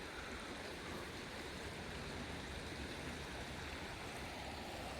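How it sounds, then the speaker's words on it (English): The San Marcos River rushes in a constant, even wash of flowing water, heard alone without voices and holding steady throughout. "A beautiful look at the San Marcos River."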